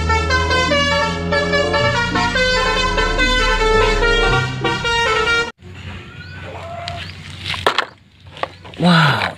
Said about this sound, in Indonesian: Wow, ini ada mobil bus telolet.